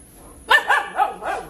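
A dog barks four times in quick succession, close and fairly loud, with short sharp yelps spaced about a quarter second apart and no talking over them.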